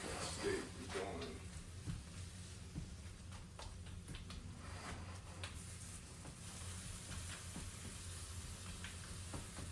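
Seasoned steak sizzles in a hot pan with a steady, faint, even hiss and spitting crackle throughout.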